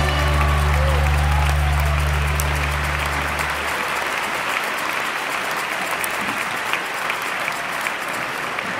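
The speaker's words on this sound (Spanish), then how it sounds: "¡Aplausos en la presencia de Jesús!" A church congregation at a convention celebration applauds in a dense, continuous wash, with a held low keyboard chord sounding beneath the clapping for the first few seconds before fading out.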